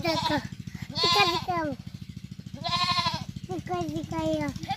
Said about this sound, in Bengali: যে ছাগল কান্না করতেছে